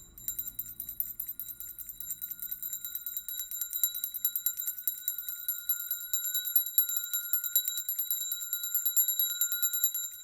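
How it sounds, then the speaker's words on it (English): A hand bell rings continuously and steadily with bright, sustained metallic tones, swung close by in a quiet room during a calm energy-healing session, with a faint low rumble only in the first couple of seconds. "And now I'm going to take this bell"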